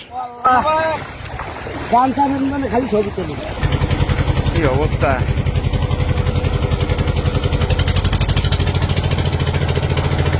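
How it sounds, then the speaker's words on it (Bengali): A voice talks briefly, then a nearby fishing trawler's engine starts up with a loud, steady, rhythmic chugging that keeps running to the end, in the Sundarbans on the Bay of Bengal. "অবশেষে ভাসলো আমাদের ট্রলার"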